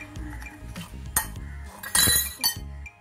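Slime activator being stirred in a bowl with a utensil, giving light clinks and scraping taps in an irregular rhythm, close and fairly quiet.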